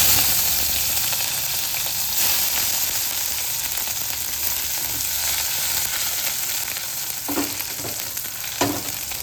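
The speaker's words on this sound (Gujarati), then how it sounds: "હવે લીલા મરચાંનો વઘાર" Loud, continuous sizzle and crackle of green chillies hitting hot oil, with a few sharper spatters toward the end and no talking.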